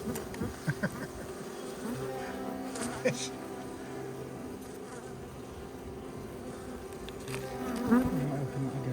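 Honey bees swarm and buzz around a hive rescued after a rat attack, a constant close humming drone with individual bees zipping past, while people talk quietly in the background.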